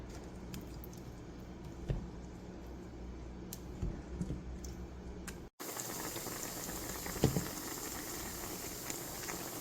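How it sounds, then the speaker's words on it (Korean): Potatoes braise in soy sauce seasoning for a Korean potato side dish, bubbling vigorously with a steady, close boil and a brief gap midway. "물기가 다 날아갈 때까지 팔팔 끓여서 졸여줍니다."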